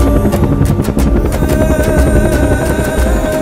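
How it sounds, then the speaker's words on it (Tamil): A navy helicopter flies over a flooded area in Tamil Nadu, its rotor and engine producing a loud, steady, close drone with a faint rhythmic beat throughout. "வந்த கப்பல் படை ஹெலிகாப்டர்"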